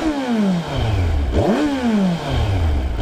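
A 2017 Kawasaki Versys 1000 motorcycle engine rumbles, then revs up sharply and falls back to idle, its exhaust note loud and close.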